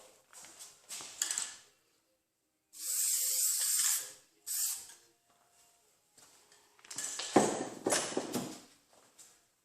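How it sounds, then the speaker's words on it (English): Two short bursts of aerosol guide coat hiss close up onto a plastic front-end panel of a 2011 Ford Taurus under collision repair, the first longer, separated by quiet and surrounded by scattered handling clatter. "now I'm going to spray a little guide coat."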